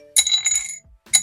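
Small dice clatter and rattle briefly against a hard hi-lo (sic bo) dice plate, a quick metallic jingle followed by a second short rattle.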